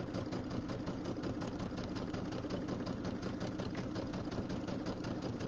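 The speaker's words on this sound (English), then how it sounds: "I'm just stitching right along where the pretty fabric and the white fabric meet" A sewing machine stitches in the ditch along a quilt seam, through the pieced top and backing, with a fast, even, steady run of needle strokes at low volume. No pauses and no talk.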